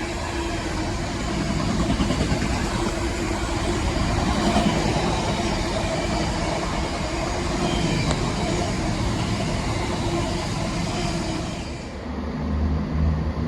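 Freight train 66515, bound from Radley to Southampton, rolls past a trackside spot in Oxford with a sustained heavy rumble and rattling wagons, steady and close for most of the pass before fading out near the end.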